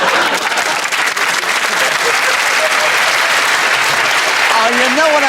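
Studio audience at a recording of the panel game Just A Minute breaks into loud, sustained applause, a thick continuous clapping that runs the whole five seconds, close and full, with a few whoops rising near the end.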